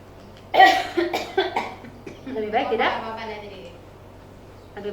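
A person coughs several times in a quick, harsh series, followed by a throaty strained sound, close up in a quiet room.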